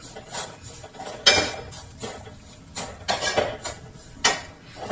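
Salt is tipped into a metal pan for roasting peanuts, giving a series of close, sharp scrapes and clinks of metal on metal with short gaps between them, and no voices.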